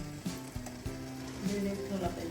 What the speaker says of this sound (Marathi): खालच्या पाण्याला उकळी आली आहे मस्त